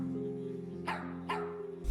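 A dog gives two or three short barks, fairly faint, over a steady low hum in the background.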